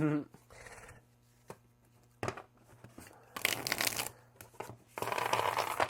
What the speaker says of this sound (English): this shuffle's like butter